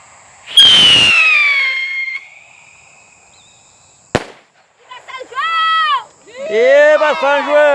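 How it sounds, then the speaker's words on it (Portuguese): A firework rocket at a São João festival whistles upward, then cracks sharply, followed by more rising whistles; loud and close, with people talking nearby. "Olha lá o rojão, hein?"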